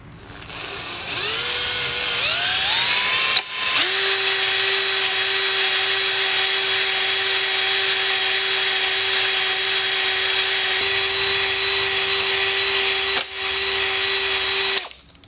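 Power drill spinning a deglazer hone inside a cylinder of an 85 HP Force outboard power head, winding up then holding a steady high whine for about ten seconds, briefly dipping twice, loud and close.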